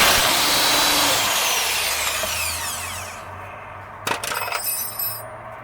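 A power tool whirs steadily at length on a strut bolt during a Honda Accord drum-to-disc brake conversion, then cuts out, followed by a few short metallic clanks and rattles close by.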